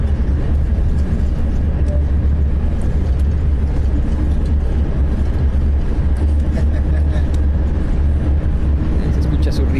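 A steady loud rumble of a moving bus, with engine drone and road noise continuous throughout, heavy low-end hum and no clear voices.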